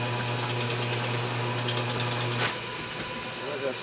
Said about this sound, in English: Alright, I'll try honing it this way, see what happens.